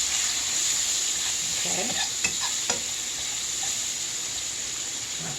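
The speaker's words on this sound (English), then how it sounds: "just keep stirring it till they get a golden brown" Food frying in a pan is stirred steadily toward golden brown, with a constant close sizzle and a few soft utensil scrapes; one brief word is spoken.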